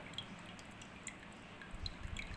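Soft wet squishing and faint dripping as water is pressed out of homemade butter by hand, quiet and close, with a few small drips and squelches toward the end.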